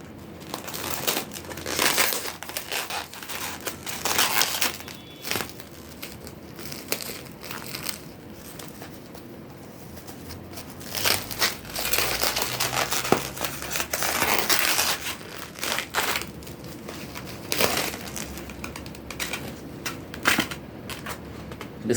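A crinkly plastic package is torn open and handled in bursts of loud, close crackling and rustling that stop and start throughout, with pauses of quieter handling between.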